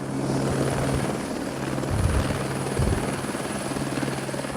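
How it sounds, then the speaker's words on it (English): A helicopter touches down, its rotor chop and turbine whine steady and loud close by, filling the whole stretch with no talking. "I couldn't think of anything worse than going up in that helicopter"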